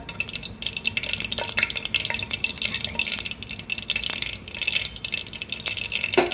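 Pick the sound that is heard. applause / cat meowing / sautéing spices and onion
sautéing spices and onion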